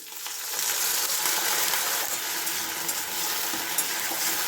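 Greens with potato, pumpkin and eggplant cooking in a pan just after a little water is added: a loud, dense, continuous hiss of sizzling and bubbling, close up, with no talk.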